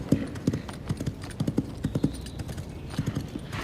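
A horse's hooves clip-clop at a steady walking pace, close and distinct, with regular paired strikes continuing throughout and no talking.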